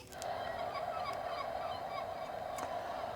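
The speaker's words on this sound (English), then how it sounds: "The salty, blustery air is filled with shrieking and squawking as gulls circle above the towering cliffs." Seabirds, gulls by description, shriek and squawk above towering seaside cliffs in salty, blustery air, a dense continuous chorus of calls with no voices over it.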